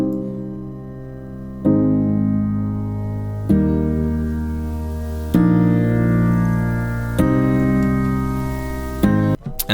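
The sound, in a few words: soft piano with OTT compressor plugin dragged up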